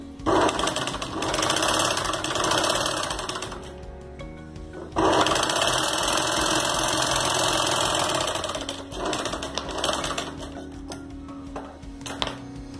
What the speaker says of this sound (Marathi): आता आपण इथे प्रेस करून इथे स्टिच करणार आहोत